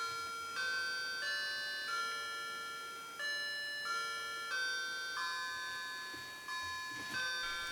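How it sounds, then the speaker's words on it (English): Battery-powered wall clock chiming a bright, steady melody of sustained bell-like tones, notes changing about every two-thirds of a second, each ringing and fading into the next, loud and close with no voices. "Now we'll move to the chime sound of this clock."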